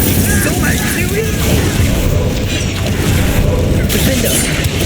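An Incendio fire spell cast in Hogwarts Legacy, rendered as a dense, loud roaring burst with rumbling booms and crackling debris amid busy combat sounds.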